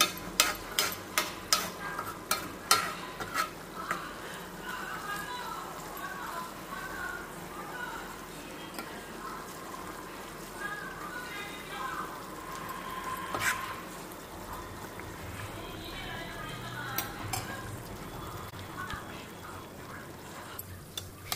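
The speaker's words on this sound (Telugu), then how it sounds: "సో చూడండి ఎంత చక్కగా వేగుతున్నాయో" Food frying in a pan and being stirred, a steady soft sizzle with a run of scraping, knocking stirs near the start and occasional clinks later.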